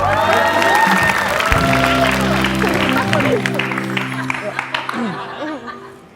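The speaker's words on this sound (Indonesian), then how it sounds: "Ibu Rara silakan duduk ya, tepuk tangan dong" A studio audience claps and cheers loudly from the start, the applause mixing with voices and a little laughter before thinning out near the end.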